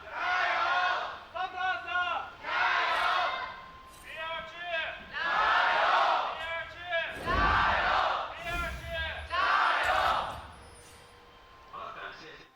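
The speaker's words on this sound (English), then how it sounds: "It's time to hear from the crowd on FPX versus BLG." A large indoor esports arena crowd at a League of Legends LPL match, FPX versus BLG, roars and chants in loud rising waves, with voices surging together and brief dips between bursts of cheering.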